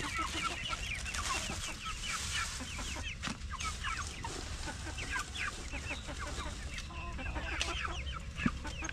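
Hungry ducks in a backyard garden call with steady overlapping quacks and clucks, joined by other farmyard fowl, filling the whole stretch at a constant moderate level with no voices.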